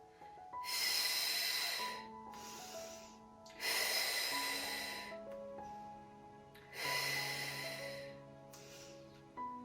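Deep breathing during a pregnancy Pilates exercise in an antenatal class, with three long, loud breathy exhalations a few seconds apart, close up, and quieter inhales between them.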